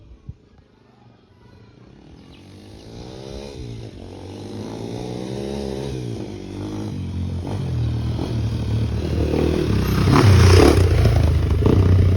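A Honda motorcycle rides past in a village, its engine drone building steadily louder over several seconds, with rattling, revving tones close by at the end.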